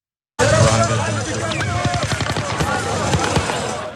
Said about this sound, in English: That's the unmistakable sound of automatic gunfire